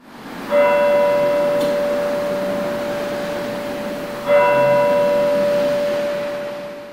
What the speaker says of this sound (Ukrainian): Тепер щогодини у місті чути бій курантів